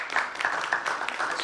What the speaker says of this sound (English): We can have a big round of applause for Dr.